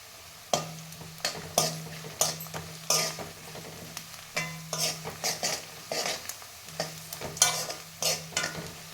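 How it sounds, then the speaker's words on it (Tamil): Steady sizzling of onions sautéing in a pan for wheat rava upma, with repeated scraping and stirring strokes of a spoon, close and fairly quiet, no talking. "வெங்காயம் நல்லா வதங்கியாச்சு"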